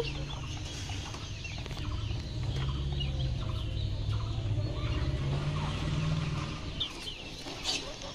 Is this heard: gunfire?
no